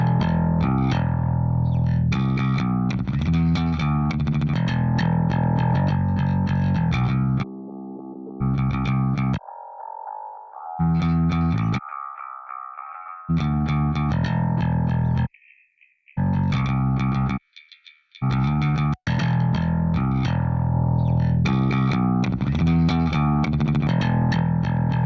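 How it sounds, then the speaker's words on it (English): A gritty, distorted bass line plays alone with a hollowed-out midrange, dropping out briefly in places, then returning with steady, driving notes. "the bass has some distortion on it already"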